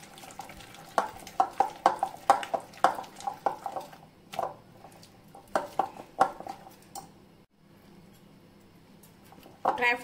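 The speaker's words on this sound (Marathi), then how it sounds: "आता मिक्स करायचे।" Plum cake batter stirred in a bowl with a spoon, thick with dried fruit and a splash of milk, giving a run of close, rhythmic wet scraping strokes that pause midway and then resume briefly at the end.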